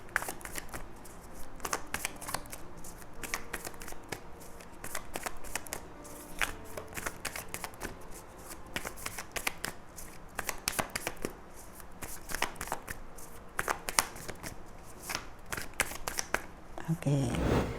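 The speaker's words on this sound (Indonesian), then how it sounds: "Bunda akan shuffle kartunya dulu" Tarot cards are shuffled by hand in a long run of close, rapid riffling and slapping, with a short break near the end.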